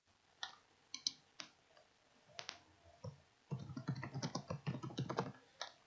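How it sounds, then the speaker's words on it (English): Typing on a computer keyboard: a few scattered, faint keystrokes at first, then a steady run of rapid clicking taps close by, with no voices over it. "Okay, type."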